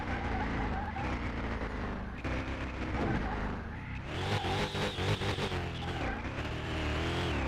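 A race car runs flat out in Car Mechanic Simulator 2021, its engine roaring loud and steady at around 170 with tyre skidding and shifting pitch as it takes corners, no talk over it.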